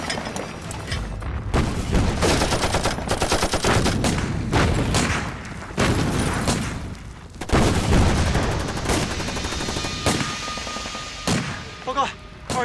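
Enemy soldiers fire on the battlefield of a Chinese anti-Japanese war drama, with loud gunshot bursts and rattling volleys repeating close by in dense, uneven clusters.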